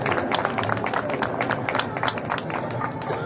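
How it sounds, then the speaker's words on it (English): An audience at a voter event applauds steadily, a dense patter of many hands clapping at moderate distance with a few faint voices mixed in, holding even throughout. "Let's give another round of applause for Christina Thornton."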